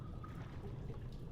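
Flowing water in the horror game Amnesia: The Dark Descent, a steady low rushing and trickling, even and continuous, with no voices.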